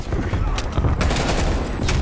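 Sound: gunfire from a shooter video game

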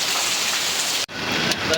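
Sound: rain falling

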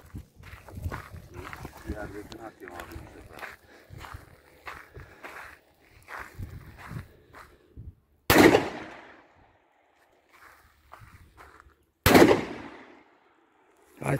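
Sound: ATA Arms Superpoze 12 gauge shotgun shots

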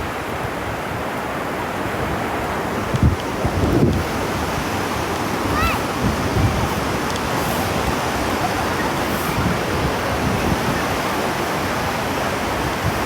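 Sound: sea waves at Chao Lao beach

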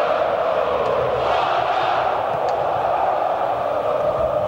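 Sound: Botafogo fans' deafening crowd noise at Maracanã stadium

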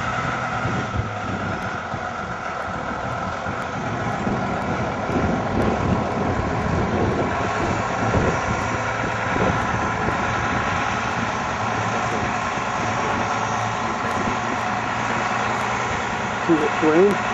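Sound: tractor engine running

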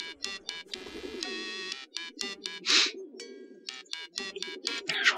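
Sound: pigeons cooing in the video game Hiveswap

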